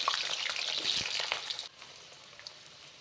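Cut potatoes drop into hot mustard oil in a kadai, setting off a loud bright sizzle with crackling spatters that cuts down abruptly to a quieter, softer fizz with occasional pops.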